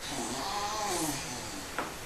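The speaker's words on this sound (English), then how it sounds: "That was my dog." A young dog lets out a drawn-out, wavering groan, faint and somewhat distant over steady room noise, followed by a brief soft knock near the end.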